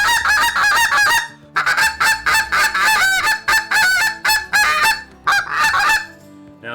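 A half-breed goose call is blown close and loud, producing a rapid series of honks and clucks in bursts with brief gaps between them, and no talk over it.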